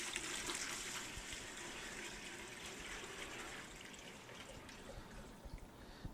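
The first gallon of water for a one-gallon Black IPA home brew pours into a brew pot, a quiet continuous rushing splash that lasts the whole time.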